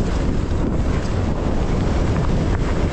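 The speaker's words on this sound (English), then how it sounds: "Oh, got the wind there." Steady wind buffeting the microphone on a mountain bike trail, a loud continuous low rumble and roar with no pauses and no voices.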